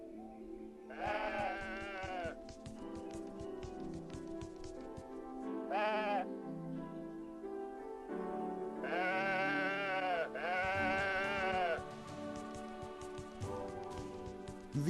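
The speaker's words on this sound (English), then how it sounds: "These sheep seemed happy." Sheep in the video game Woven bleat repeatedly, several drawn-out wavering calls in short bursts, heard clearly over a soft ambient game soundtrack.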